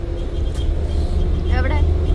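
Inside a crowded moving bus, a steady low engine drone and road rumble fill the space, with a voice speaking briefly over the noise.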